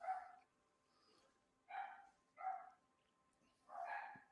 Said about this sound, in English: As you can hear, the dogs are restless downstairs.